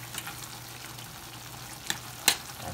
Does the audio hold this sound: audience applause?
no